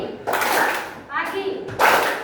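A group of children claps together in a call-and-response clapping game, with short bursts of clapping alternating with a voice calling out.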